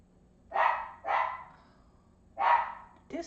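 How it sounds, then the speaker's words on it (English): A small indoor dog barks three times, two quick barks, then a pause and a third, close and clear against a quiet room, with a short yip at the end. "silly dog."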